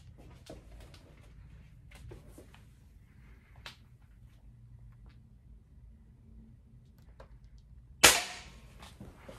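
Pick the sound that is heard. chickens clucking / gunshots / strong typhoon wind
gunshots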